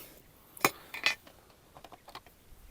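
Two quick metallic snips of small scissors cutting fishing line on the Dniester river while bream fishing, crisp and close, followed by a few faint clicks with no talk.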